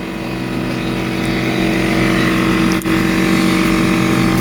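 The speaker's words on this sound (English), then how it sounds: "I'm letting the compressor charge back up" Air compressor running steadily while it recharges, ahead of blowing out a Black Max system: a loud, continuous motor drone with a constant low hum and a brief dip near the end.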